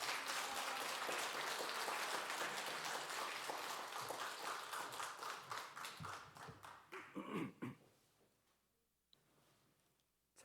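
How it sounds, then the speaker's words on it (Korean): A church audience at a New Year revival service applauds to welcome a pastor, dense steady clapping that gradually thins into scattered claps and fades to near silence. "우리 박수로서 우리 환영하도록 하겠습니다"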